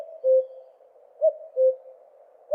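A recording of a common cuckoo giving its typical two-note call, a falling pair of soft hooting notes repeated twice, clear and isolated against a quiet background.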